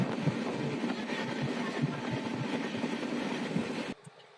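A passenger train travelling to Puri rumbles and clatters steadily with dense, continuous noise, then the sound cuts off sharply near the end, leaving near quiet.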